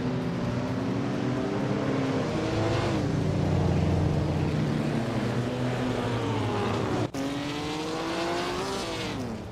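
Racing cars in a video game race led by a 1952 Jaguar C-Type at the Denver Pepsi Center track, a loud sustained engine roar with rising and falling revs and gear shifts, one abrupt cut near the end.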